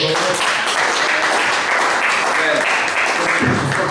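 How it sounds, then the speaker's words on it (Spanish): An audience applauds a guest, steady loud clapping mixed with voices that carries evenly through the whole moment. "Un aplauso para él, por favor."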